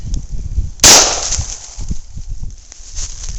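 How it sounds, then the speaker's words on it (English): A single sharp, loud 9mm Winchester Supreme Elite hollow point shot at point blank range into a melon cracks once near the middle, with quieter rustling and handling noise before and after. "we're back with the 9mm, except for this time we have the Winchester Supreme Elite hollow points"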